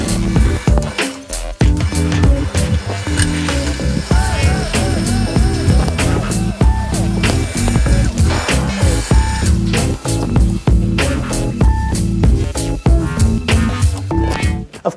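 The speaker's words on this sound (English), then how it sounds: "put our suction hose down into the basket filter and pump away" A pump draws free run wine juice through a suction hose from a basket filter up into a tank, with a steady, loud mechanical whir and rapid rhythmic clatter running continuously throughout.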